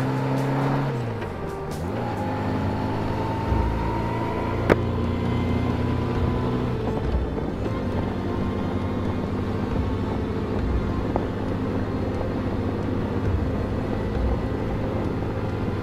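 A Honda GL1200A motorcycle cruises along a highway, its engine a steady loud drone with wind rush and a brief shift in pitch early on, continuous with no voices.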